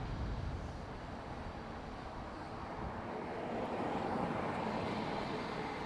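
Ryanair airliner arriving at Dublin Airport from Reus, a steady broad roar of jet engines that swells slightly toward the end, continuous and moderately distant, with no voices.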